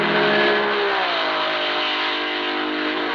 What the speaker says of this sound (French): Voici par exemple la Porsche 550 RS Spider des Belges Claes et Stas.